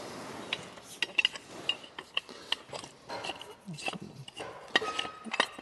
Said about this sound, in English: Pipe wrenches always end up rusty and don't want to spin, so it'll take me a second here to get it adjusted down.